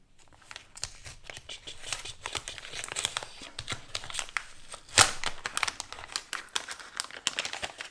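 Tracing paper envelopes crinkle and rustle as they are handled close up, a busy run of dry crackles with one louder crunch partway through.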